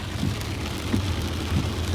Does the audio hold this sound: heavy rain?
yes